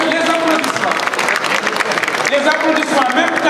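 A crowd applauds loudly and steadily at a Senegalese storytelling event, with dense clapping filling the whole stretch and voices mixed in beneath the noise.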